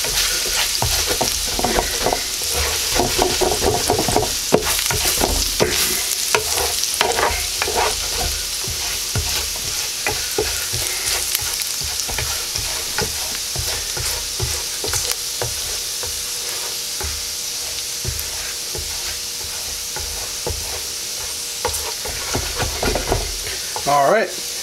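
An ingredient frying in a pan until fragrant while honey garlic pork chops are made, producing a loud, dense, continuous sizzle with crackling spatter close by for the whole stretch.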